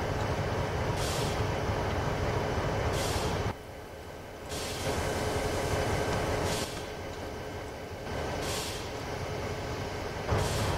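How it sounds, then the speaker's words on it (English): Diesel locomotive in a train video game, a steady loud engine drone with rumbling, pulsing on and off in periodic dips, no voices. "Wow, this thing goes fast in first gear. Or whatever you call it on a diesel locomotive."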